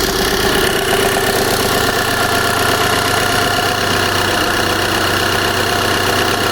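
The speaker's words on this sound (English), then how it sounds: "Just leave it tick over, don't rev it or nothing." A VW Polo 1.2 TD diesel engine idles steadily up close, a constant loud rumble with a faint knocking texture and no talking.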